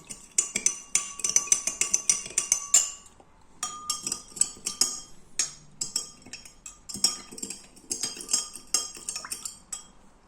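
A spoon stirs a kiwi-flavoured cold drink in a glass, giving rapid bright clinks against the glass in close bursts with short pauses, loud and alone with no talk.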